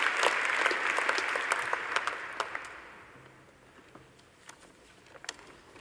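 At a Faculty of Medicine graduation, the audience gives the medical graduates a burst of applause that is full at first and thins out after about three seconds, leaving a few scattered claps.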